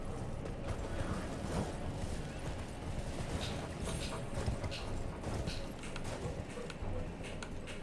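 Rapid hoofbeats pound continuously in a dense, noisy Elden Ring game soundscape, a horse galloping at speed throughout without pause.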